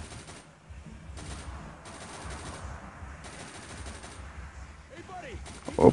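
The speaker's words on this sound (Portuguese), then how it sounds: "Eu não tenho certeza se ela é uma metralhadora ou se é um rifle." Rapid bursts of machine gun fire in the zombie shooter Unkilled rattle out in several separate volleys at moderate loudness, with someone talking over them.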